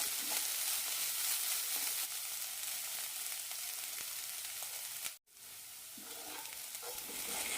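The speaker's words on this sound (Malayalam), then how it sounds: "രണ്ട് മൂന്ന് മിനിറ്റ് നന്നായി വഴറ്റിയെടുക്കാം മസാലയുടെ പച്ചമണമെല്ലാം പോകണം" A jackfruit seed and egg stir fry sautés in a pan with a steady, bright sizzle and soft stirring scrapes, close and continuous, broken by one brief silent gap.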